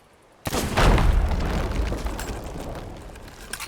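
Three gunpowder kegs blow up aboard a brig in a pirate ship video game, a sudden loud boom that rolls into a long rumbling roar and slowly fades.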